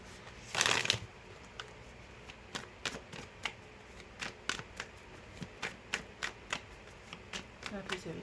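Tarot cards are shuffled and cut by hand: a brief loud riffling burst, then a string of soft, crisp slaps and flicks at irregular intervals, close and quiet, with a voice speaking intermittently.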